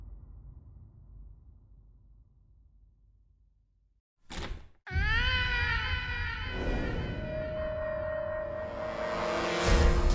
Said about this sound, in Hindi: बिल्ली की बच्ची, जाओ यहाँ से, जाओ यहाँ से